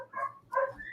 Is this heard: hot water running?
no